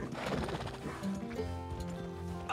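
In Red Dead Redemption 2 roleplay, a horse lets out a loud, quavering whinny close by, mixed with the hollow clip-clop of its hooves over a low ambient bed.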